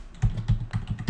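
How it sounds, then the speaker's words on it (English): Someone types on a computer keyboard in a short, uneven run of clicky keystrokes, close and moderately loud, with no voices. "I just type T for teaspoons and it fills it in."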